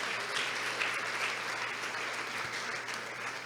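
A church congregation applauds the Lord in a steady, dense wash of clapping that holds evenly throughout, moderately distant and filling the room with no voice above it.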